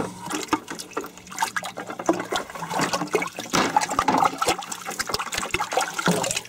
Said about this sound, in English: Then the test is to just rinse your hands off in some fresh water.